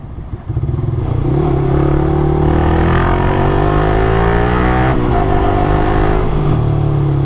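A Kawasaki ZX-6R motorcycle engine roars loudly and continuously for several seconds while ridden, its drone climbing and dipping in pitch with throttle changes.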